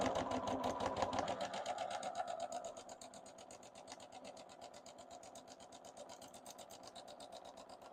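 A sewing machine stitches a free-motion patchwork appliqué with a fast, even mechanical chatter, close and fairly quiet. The pace eases slightly partway through, and someone speaks over the first few seconds.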